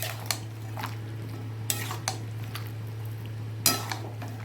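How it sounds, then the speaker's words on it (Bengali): Spiced chicken with onion, tomato, ginger-garlic paste and masala being stirred in a pot: a spoon scrapes and clinks against the metal in several sharp knocks over a low steady hum, with faint frying underneath. "এবার আমি এটাকে ভালো করে কষিয়ে নেব।"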